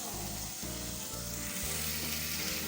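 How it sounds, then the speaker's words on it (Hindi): Chicken and chickpeas sizzle steadily in hot oil in a pot, a dense continuous fry broken by the muffled scrape and knock of stirring. "अब इसे अच्छी तरह फ्राई कर लेंगे।"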